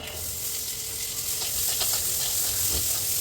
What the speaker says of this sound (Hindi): और ये चने मेरे हाथ में है, इनमें डाल दूंगी।